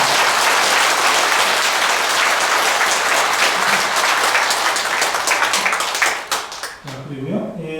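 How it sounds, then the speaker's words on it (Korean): A broadcast audience at a year-end special gives a dense, sustained round of applause that fills most of the clip before tapering off, with a voice emerging as the clapping fades. "그래도 박수는 같이 한번 보내주십시오."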